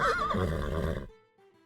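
A horse neighing as a sound effect, one loud, clear whinny with a quavering rise and fall that cuts off abruptly, followed by near silence.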